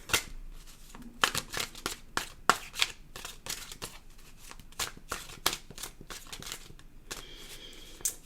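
Tarot cards shuffled by hand in a quick run of crisp riffling bursts and soft slaps, close and alone, with no talk.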